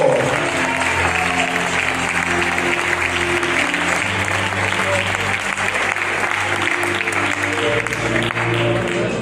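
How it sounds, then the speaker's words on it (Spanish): Steady, sustained applause from a large church congregation fills the room, with music playing underneath throughout. "Aplauden a Dios, por favor."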